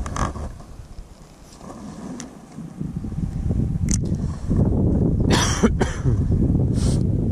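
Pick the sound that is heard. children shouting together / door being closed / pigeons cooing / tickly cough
tickly cough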